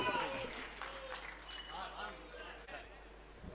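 An audience at a youth poetry recital applauds steadily, a dense wash of clapping heard fairly faint and distant, with speech mixed in.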